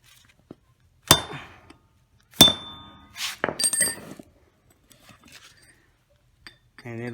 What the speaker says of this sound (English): Now we're just gonna take a hammer and hit it there.